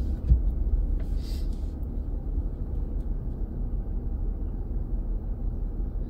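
A 2023 Nissan Frontier on Mickey Thompson Baja Boss tires rolls downhill on a snowy road, giving a steady low engine and road rumble from inside the cab with no talk.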